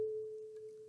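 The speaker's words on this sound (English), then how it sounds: "You should hear this one ringing faintly." A tuning fork, set ringing by acoustic resonance from a second fork, sustains a faint, pure steady tone that slowly fades over about a second, with no other sound.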